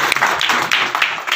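A group claps together in congratulation at a community gathering, a steady patter of many hands close by, brief and fairly loud, with no talking.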